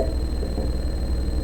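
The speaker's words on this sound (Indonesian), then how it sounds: "maka lampu merahnya nyala dan ada alarm yang" An electronic alarm sounding from a temperature sensor circuit in a digital electronics project, a continuous steady high tone with a constant hum underneath, heard alone.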